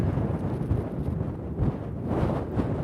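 Strong wind buffets the microphone at a volcano, a loud continuous rushing roar with gusty surges and low rumble throughout, close and unbroken, with no talking.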